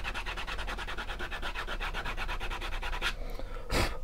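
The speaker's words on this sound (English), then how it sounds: "So we'll sand it first." A leather knife sheath is sanded with sandpaper in quick, even back-and-forth strokes, close and rhythmic, followed by a short pause and a final rub.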